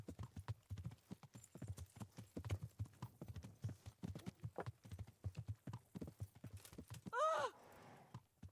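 Horse hooves in a video game clop in a steady, rapid rhythm close by, with a short whinny rising near the end.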